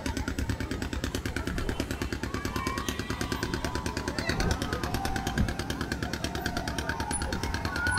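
A motor boat engine putters loudly and steadily close by, its rapid, even throbbing pulses continuing without a break.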